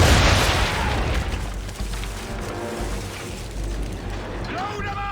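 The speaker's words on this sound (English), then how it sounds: "Fire broadside!" In Assassin's Creed III, a ship fires a cannon broadside at sea: a heavy opening boom rolls into a sustained rumble of repeated cannon blasts. Voices and game sounds carry on beneath the thunder.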